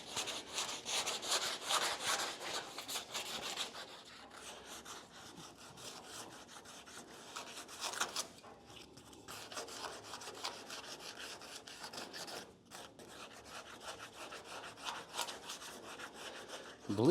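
An 80-grit hand sanding block is worked over a rounded truck roll pan, making repeated rasping strokes. The scraping is close, louder at first and then steadier, with no talking.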